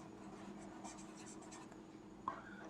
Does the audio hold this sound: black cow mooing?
no